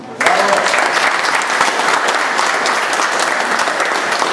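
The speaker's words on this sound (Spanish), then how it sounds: "para quien pido también un fuerte aplauso" Audience applause at the opening of a painting exhibition, a strong burst of many hands clapping that starts abruptly and holds evenly and loud to the end.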